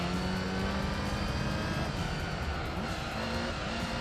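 An Audi race car in Gran Turismo 3 drones with a steady, loud engine note, the pitch shifting slightly as it climbs through revs, heard on its own without talk.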